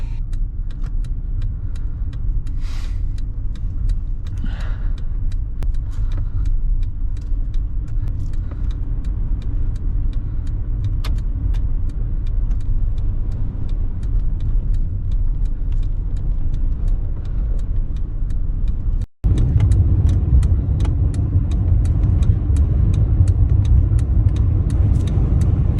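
A Citroen car under tow with its engine failing rolls along as a steady, loud low rumble of road and engine noise. A brief dropout near the end is followed by an even heavier drone.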